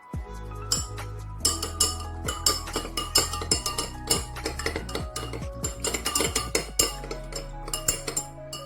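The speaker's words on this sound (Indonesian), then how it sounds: "Langsung dimasukin aja tepung maizenanya ke dalam air. Nah, langsung diaduk ya." Cornstarch being stirred into a glass of water for a colloid experiment: a spoon clinks and scrapes against the glass in a quick, busy series of bright ringing taps, close and clear with no speech.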